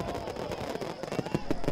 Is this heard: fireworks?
yes